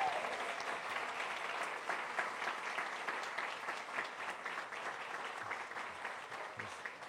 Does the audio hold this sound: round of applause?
yes